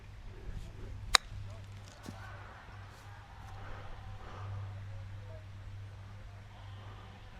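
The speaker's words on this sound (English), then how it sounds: "got a sand wedge in hand. Just going to try and get it over this mound." A golf chip with a sand wedge over a mound toward a green: one sharp, brief club strike about a second in, then a quiet outdoor background with a low steady hum and faint rustling.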